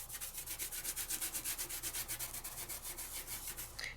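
A die-cut paper craft piece is burnished with quick, rhythmic back-and-forth rubbing strokes, close up and evenly paced, with no talking.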